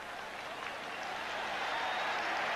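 A large crowd at a 1983 professional football game between New Orleans and Buffalo applauds steadily, a dense, continuous wash of clapping and cheering from the stands that swells slightly louder toward the end.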